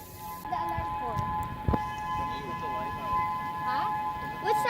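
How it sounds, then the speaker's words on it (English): Tsunami warning siren in Hawaii sounding as a steady, faint tone far in the distance, under nearby rustling and handling noise, with brief sharp knocks. "Sometimes I do have the sirens for tsunami, so we just have to see if we hear anything else."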